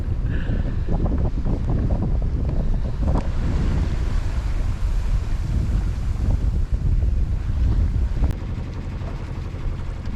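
Sailboat cruising on a beam reach in about 7 knots of wind, a constant wash of wind buffeting and water rushing along the hull, steady and fairly loud with no voices.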